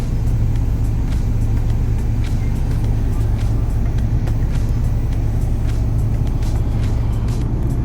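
A car engine idles steadily at about 1,000 rpm, a constant low rumble with a droning hum, close and loud, running alone without talk.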